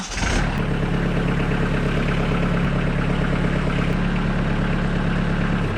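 A cab tractor fitted with rear remote hydraulics runs at a steady idle, its engine droning low and continuous, close and fairly loud without any change in pace.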